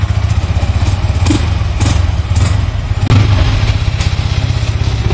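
Sport motorcycle engine running steadily, comparing a Yamaha R15 V4, KTM RC200 and Yamaha R15 M, with a loud continuous low throb and a few sharp revs or thuds, no talk.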